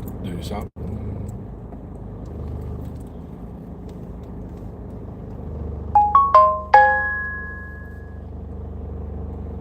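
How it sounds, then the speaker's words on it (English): A drone app on a phone gives a short run of bright rising chimes, ending in a longer ringing tone, heard close inside a moving car over a low steady road rumble. "other drone app telling me my drone is waiting for takeoff"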